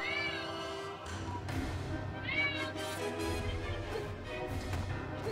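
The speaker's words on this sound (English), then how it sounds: "Sigmar is hungry. He's meowing like a moron." A hungry cat named Sigmar meows repeatedly indoors, a string of insistent, fairly faint cries spaced a second or so apart over a low background hum.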